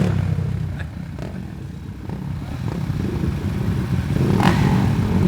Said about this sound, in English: We're on the line. Revs are up.